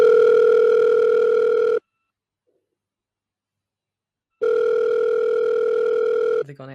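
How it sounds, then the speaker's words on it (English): A telephone ringback tone for an outgoing call to a radio listener: a loud, steady two-note ring lasting nearly two seconds, a pause of silence, then a second ring that cuts off as the line picks up and a voice begins. "Well, I guess we'll make a phone call to one of our listeners."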